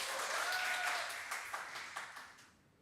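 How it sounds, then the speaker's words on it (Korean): A church congregation claps briefly during a sermon, a soft, fairly distant burst of clapping that tapers off within a few seconds. "박수 한번 쳐주시기 바랍니다"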